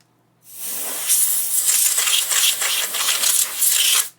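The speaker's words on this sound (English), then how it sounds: "this one actually looks like I might be able to get away with just spraying the air." Compressed air sprayed over a computer keyboard to clean it, a loud close hiss in several continuous bursts with short dips, no talking.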